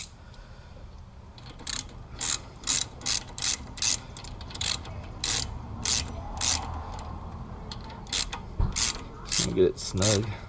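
Ratchet clicking as a nut is tightened on the radiator fan of a Polaris RZR 800, a close series of quick rhythmic ratcheting bursts with short pauses between strokes.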